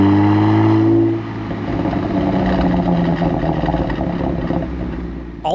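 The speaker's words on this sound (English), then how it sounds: "All those burbles you're hearing are purely a result of the exhaust system." Genesis G70 fitted with a Borla exhaust burbles and crackles after a loud rev dies away, a steady run of low popping pulses close up, ending with a short sharp blip.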